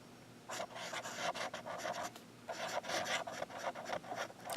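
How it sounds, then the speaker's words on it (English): A Yiren fountain pen nib scratches across paper in close, quiet strokes, a soft papery rasp coming in short rhythmic bursts with a brief pause between two writing passages. "you hear how the nib writes on the paper"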